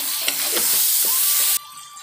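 Cabbage frying in a hot pan, sizzling loudly and steadily with a few stirring scrapes, then the sizzle drops to a softer hiss near the end.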